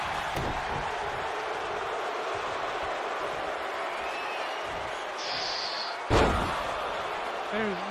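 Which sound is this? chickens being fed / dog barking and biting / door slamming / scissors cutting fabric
door slamming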